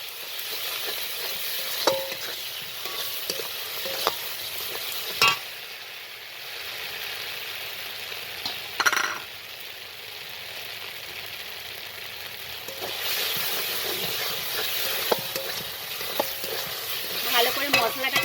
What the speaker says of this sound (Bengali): ভালো করে মশলাটাকে আমি কষিয়ে নিচ্ছি